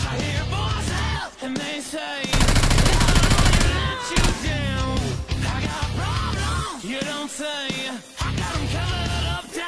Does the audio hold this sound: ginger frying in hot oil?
no